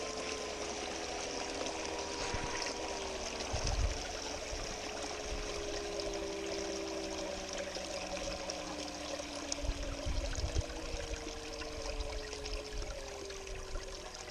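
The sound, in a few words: water running over a sluice mat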